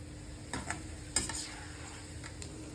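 Oil sizzling steadily as chicken fries in a pan, with a few sharp clicks and scrapes from stirring.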